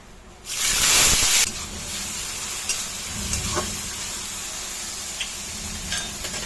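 Grated onion hits a hot pan for a bitter gourd (karela) curry, setting off a loud, close burst of hissing sizzle that settles into a steady, softer frying sizzle with occasional faint clinks.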